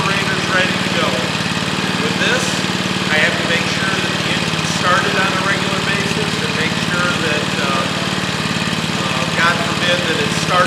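A fire truck engine runs steadily, driving a hydraulic generator for Jaws of Life rescue tools, a continuous loud mechanical drone with a low hum and rattling vibration that holds level throughout.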